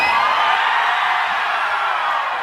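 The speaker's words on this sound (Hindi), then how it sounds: "मतलब जोरदार चिल्ला करके सभी लोग।" A large crowd at a live stage show in Madhepura, Bihar, shouts and whoops loudly, a dense, continuous roar of many voices with no pauses.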